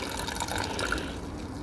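Water carrying gold sediment poured slowly from a container, a soft steady trickle and splash, faint and close, with no talking.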